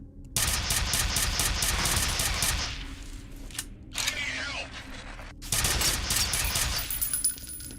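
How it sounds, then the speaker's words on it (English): Enemy gunfire in F.E.A.R. rattles toward the player in rapid, dense bursts, loud and close, breaking off for a few quieter seconds with mechanical clatter before another heavy burst erupts. "Stop shooting me."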